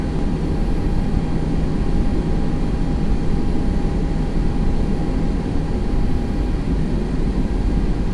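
An Airbus A320 jet in X-Plane 11 on a crosswind departure, heard as a loud, continuous low engine roar with steady broadband rush and no talk over it.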